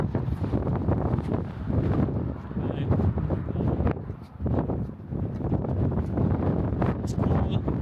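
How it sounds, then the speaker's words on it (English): Strong gusty wind at Hoover Dam buffets the microphone in heavy low rumbling bursts that swell and ease throughout, loud and close, with no clear voices over it. "It's so windy here, so we have to be careful with our equipment, the camera."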